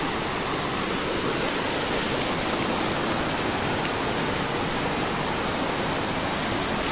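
A waterfall in a forest roars as a constant, loud, dense rush of falling water, unbroken and steady with no voices over it.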